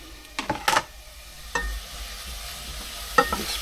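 Garlic dropped into a hot pan for a Thai green chicken curry, cooked aboard a boat: a few short clatters and sizzling bursts of stirring at irregular intervals over a quiet background.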